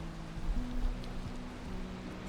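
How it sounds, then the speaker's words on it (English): Steady rain falling in the video game Valheim, a soft continuous wash of patter with faint low tones sustained underneath, no voices. "I'll show it when this rain clears."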